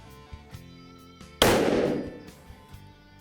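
A single sharp rifle shot cracks out at a target during bison hunt practice, loud and close, with a long echoing decay rolling away over open ground.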